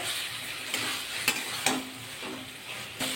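Eggplant with sugar and slit green chilies being stirred in a pan, a soft steady sizzle broken by a few sharp scrapes and taps of the spatula, close by and with no talking.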